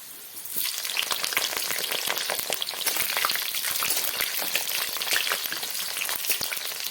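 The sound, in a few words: potatoes frying in a pan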